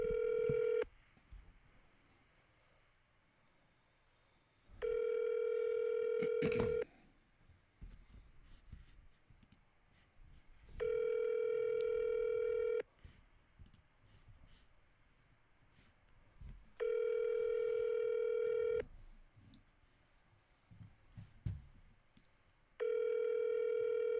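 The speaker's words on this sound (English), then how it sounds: "So let's give Sydney Snow a call" A telephone call rings out with a repeating steady ringback tone, about two seconds on and four off, sounding five times, fairly loud over a quiet background.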